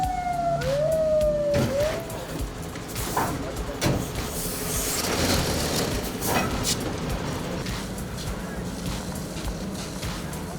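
An ambulance arrives at an emergency response drill, its siren wailing briefly at the start before giving way to a busy wash of vehicle and crowd noise.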